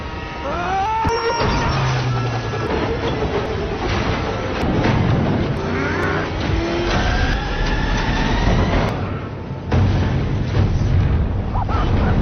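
Batmobile chase scene from The Batman film: engines roar and rev amid crashes and booming impacts, a dense, loud cinematic mix with shifting bursts and swells, including a heavy blast near the end.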